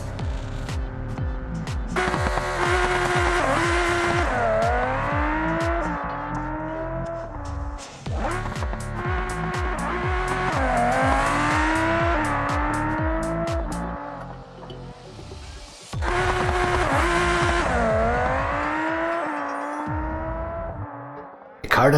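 Scintilla race car in a BeamNG drag race, its engine screaming up through three hard acceleration runs with rising revs and gear shifts, loud and close, each pull cutting off briefly before the next.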